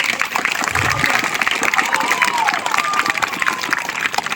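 A studio audience claps loudly and continuously, with scattered cheers and whistles rising above the dense patter of hands.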